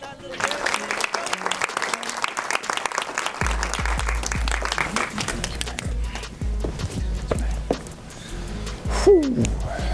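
An audience at a film premiere gives a sustained round of clapping and cheering. A deep rumble joins partway through, and a voice rises near the end.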